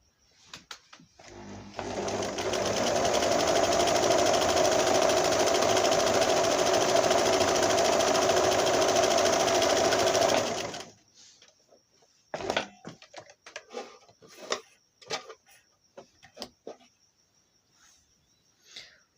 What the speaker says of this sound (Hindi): अगर आप इसके साथ सादा सिलाई करना चाहते हैं तो इस तरह से आप इसके ऊपर सादा सिलाई कर सकते हैं जी